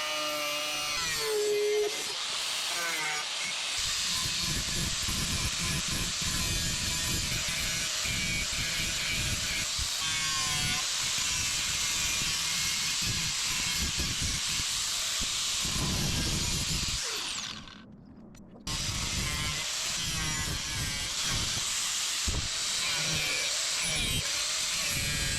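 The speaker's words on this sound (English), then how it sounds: "I'm going to chop this with the angle grinder" An angle grinder cuts through a thermal blackout blind for a VW T5 camper, a loud continuous whine running steadily for most of the clip before a brief stop, then starting again.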